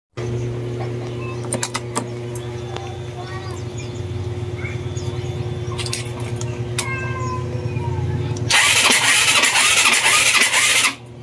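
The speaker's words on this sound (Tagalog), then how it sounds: "gumagana na electric starter" A Rusi RFI 175 motorcycle's electric starter cranking after magneto repair, a steady close whirring hum throughout, ending in a louder burst of cranking noise, with occasional clicks and a voice talking.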